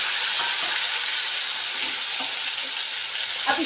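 Three chopped medium tomatoes frying in a cumin and asafoetida tempering for a no-onion, no-garlic potato curry, giving a loud, dense, continuous hiss close by with a soft stirring clack near the end.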